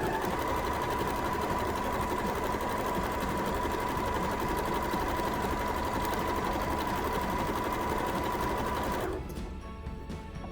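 A sewing machine runs steadily as it stitches a seam along a guideline for a jewelry pouch, a loud continuous motor whir with needle clatter that stops abruptly near the end.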